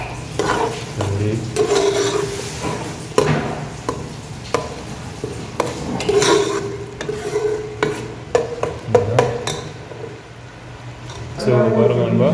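Large tomatoes frying and being stirred in a pan while cooking potatoes and egg, with irregular scraping stirs and soft sizzling close by, under intermittent talk.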